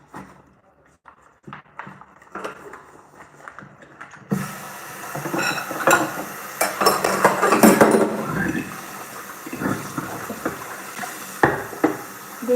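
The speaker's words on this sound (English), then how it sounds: "Let's come and do the dishes with me." Dishes, pots and cutlery washed at a sink: quiet clinks at first, then running water with clattering, knocking metal and crockery growing louder and busier, sharp clinks scattered throughout.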